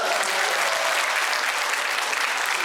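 An audience at a public talk in a Catholic church hall in Wolpyeong-dong claps in a dense, sustained round of applause that stays loud and even throughout.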